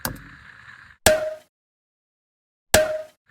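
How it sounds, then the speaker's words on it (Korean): A short, bouncy snare hit with a pitched, springy tone sounds twice, spaced well apart, following a brief tonal note at the start. "이런 식으로 통통 튀는 사운드를 썼고요."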